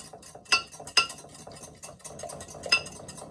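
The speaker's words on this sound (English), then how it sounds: "I usually whisk in about, oh, we'll say like a cup of this mixture." A whisk clinks against a bowl as custard mixture is beaten into eggs, a few sharp metallic taps over soft, continuous stirring, close and fairly quiet.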